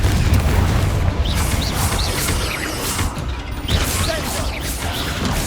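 A Confringo fire spell in Hogwarts Legacy bursts with a loud, booming crash, followed by rumbling debris and a few sharp whooshing crackles that fade over several seconds.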